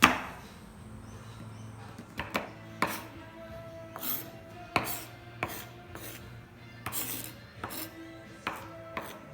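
Knife chopping chocolate on a board for chocolate hot cross buns, a series of sharp irregular chops and taps, close and clear, with no talking.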